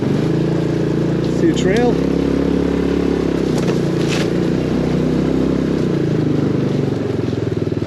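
A HammerHead 250cc go-kart engine drones steadily as the kart circles a small backyard track, a low continuous rumble close by with a brief rev, under a man's speech.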